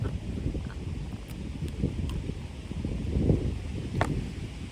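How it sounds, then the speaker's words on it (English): Strong outdoor wind buffeting a camera microphone, a steady low rumbling roar with gusty swells throughout. "I keep having to stop my camera because the wind is so strong"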